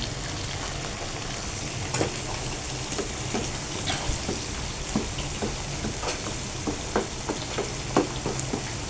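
Galunggong (scad fish) fries in a pan at home, a steady dense sizzle and crackle with scattered pops and spatters running throughout, close and continuous without any voices.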